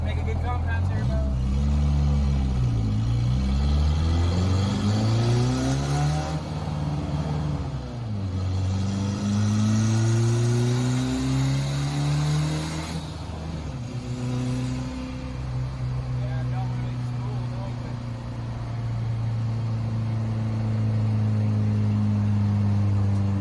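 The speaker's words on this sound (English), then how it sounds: "we took it for a drive, so that's the GT2860 on it, and it's too big." MK1 VW Rabbit turbodiesel fitted with an oversized GT2860 turbo accelerates on a drive, its engine rising in pitch through repeated gear pulls, loud and close, with speech over the engine noise.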